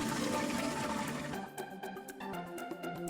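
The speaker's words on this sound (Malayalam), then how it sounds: "ഒഴിഞ്ഞ വീപ്പകളിലെല്ലാം തന്നെ വെള്ളം നിറച്ചു വയ്ക്കൂ" Water rushes and splashes as empty wine barrels are filled, a loud steady gush for about a second and a half before it gives way to music.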